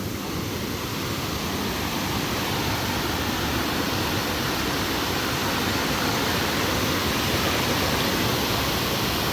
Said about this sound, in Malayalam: ഫൈനലി നമ്മൾ വെള്ളച്ചാട്ടത്തിനടുത്തെത്തി